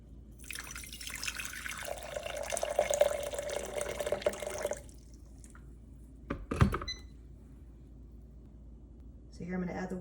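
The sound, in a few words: pouring warm water from kettle into food container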